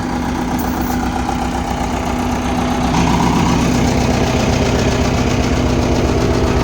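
A road roller's engine runs steadily at a loud, close idle, with a constant low rumble and knocking vibration that swells slightly partway through.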